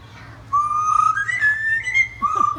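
A pet bird whistles a tune, a steady warbling melody that rises and falls in clear sustained notes, close and alone over a low background hum.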